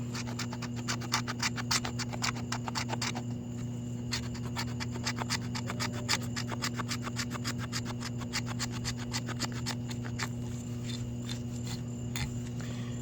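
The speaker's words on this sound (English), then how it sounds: "I'm just going to take a little bit of scrapings here with the knife, just scrape some pieces off" A knife blade scrapes small pieces and shavings off a piece of fatwood outdoors, making rapid, repeated rasping strokes that run steadily at close range over a constant low hum.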